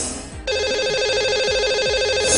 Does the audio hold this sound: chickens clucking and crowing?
no